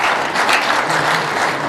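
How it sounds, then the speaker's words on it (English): Steady, dense applause from an audience at a Nigerian embassy gathering for the 59th independence anniversary, loud and continuous throughout with no talking over it. "So clap for yourselves for the patience so far."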